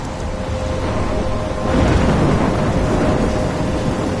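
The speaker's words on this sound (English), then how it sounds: "I'm trapped in a storm?" Thunderstorm in the video game Life is Strange: heavy rain hisses steadily while a deep rumble of thunder swells loudly partway through and rolls on under the downpour.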